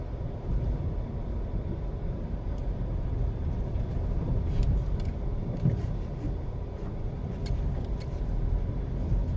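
A car rolls through a hillside neighborhood in Kingston, Jamaica, its low engine rumble and road noise a steady, even drone with faint scattered ticks and knocks from the cabin.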